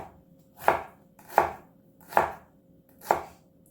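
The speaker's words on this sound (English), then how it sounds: "you can go ahead and cut it in half, just so that you have an easier time slicing it" Knife slicing a shallot on a cutting board, four crisp, evenly spaced chops at a slow, steady rhythm, close and clear with quiet pauses between and no talking.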